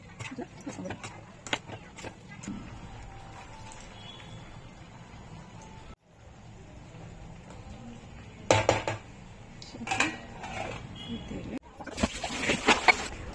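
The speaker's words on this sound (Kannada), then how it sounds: "ಪಲ್ಯ ರೆಡಿ ಆಗೋಷ್ಟರಲ್ಲಿ ನಾವು ಪಾತ್ರೆಗಳನ್ನೆಲ್ಲ ತೊಳ್ಕೊಂಬಿಡೋಣ" Pots and dishes are washed in a home kitchen, with intermittent clinks and clatters of metal utensils and sloshing water, fairly close, while someone talks over the work.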